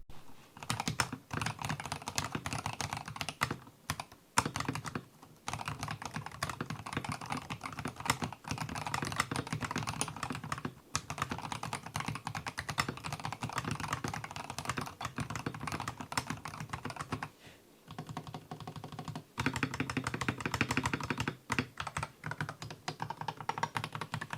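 Steady typing on a GMMK3 HE mechanical gaming keyboard, a rapid clatter of keystrokes close up, with a couple of brief pauses and no talking.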